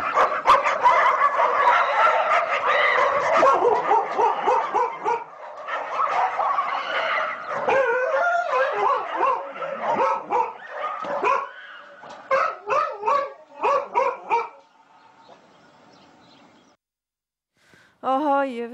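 Aggressive dogs bark and yelp in a series of sharp, overlapping bursts from a played recording, loud for most of the stretch, then thinning into a few isolated barks and a brief quiet gap near the end.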